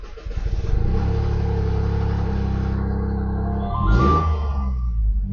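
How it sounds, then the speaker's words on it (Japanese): A white 2020 Toyota GR Yaris RZ High Performance 1.6 4WD starts up, settles into a steady idle, then revs sharply once before falling back, loud and close with no talking. "で、ちょっとエンジンかけてみたいと思います。"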